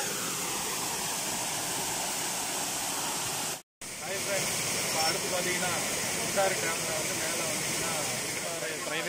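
Waterfall at Gundaru private falls near Courtallam, a steady, dense roar of falling water close by. It continues almost unbroken, with only a brief silent cut partway through.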